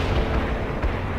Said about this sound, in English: Zulu 9 firing mortars at the target coordinates